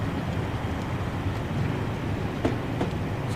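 A Train Simulator 2020 passenger coach riding on B4 bogies rolls along steadily, a continuous low rumble with faint rail clicks near the end, heard alone.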